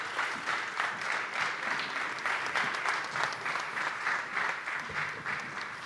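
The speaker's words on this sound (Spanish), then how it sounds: "Vamos a ir recibiéndoles con un aplauso" Sustained applause from a festival audience welcoming participants onto a stage, a dense steady patter of many hands clapping at an even level for several seconds with no pause.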